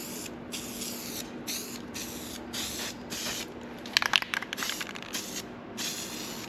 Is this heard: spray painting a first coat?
yes